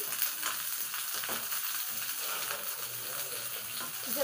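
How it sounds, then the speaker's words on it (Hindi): Onions frying in a kadhai, a steady fine crackling sizzle heard close and continuous, fairly quiet, with no talking. "अब हम उसमें प्याज डाल दिए हैं।"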